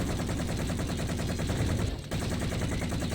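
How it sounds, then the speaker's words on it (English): Sustained rapid assault rifle fire in the video game Halo 4, a dense continuous stream of shots that stays loud and close throughout, with only a brief dip near the middle. "An assault rifle."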